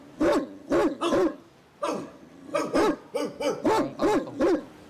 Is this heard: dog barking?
yes